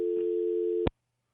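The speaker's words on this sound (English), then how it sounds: "There was a dial tone noise." A steady telephone dial tone on a radio call-in line hums loud and even for under a second, then cuts off abruptly into silence.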